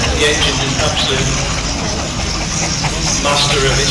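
Safety valves lifting on a steam traction engine during a heavy haulage display in a show arena, giving a steady, broad roaring hiss that runs throughout while a commentator talks over a public address system.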